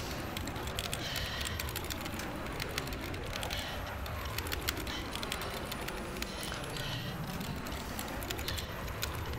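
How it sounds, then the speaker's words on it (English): Computer keyboard keys tapped in quick, irregular clicks throughout, close and fairly prominent against steady background noise. "if you could really hear my keys tapping"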